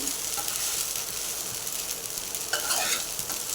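Sabudana khichdi stirred up and down in a pan over a low flame, a soft scraping stir over a gentle steady sizzle, close and without talk.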